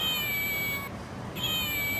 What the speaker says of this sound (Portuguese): mais acostumado com barulho de gatinho que de sapinho